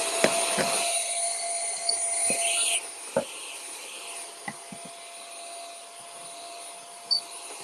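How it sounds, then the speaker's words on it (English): A vacuum cleaner runs with a steady high whine, then drops in tone partway through, with scattered clicks and knocks over the hum. "All right, so let's get the vacuum."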